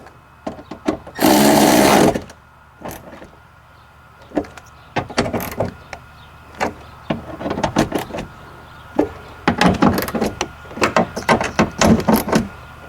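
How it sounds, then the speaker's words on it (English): Bolts are tightened on a Hyundai Sonata driver's door window, giving a burst of ratcheting followed by scattered, irregular clicks and metallic taps, close and moderately loud with no talk. "we got these two window bolts started. So now I'm going to tighten them"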